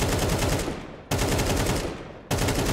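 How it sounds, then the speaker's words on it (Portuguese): AK rifle spray bursts from the shooter game CS2: three long, dense volleys of rapid automatic gunfire, loud and close, each cutting off abruptly before the next begins. "Olha se eu der a rajada da AK pra esquerda."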